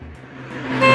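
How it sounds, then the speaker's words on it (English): Short car engine sound rising in pitch and loudness over about a second, a toy-like rev that swells toward the end, with no talking. "What sound does a car make?"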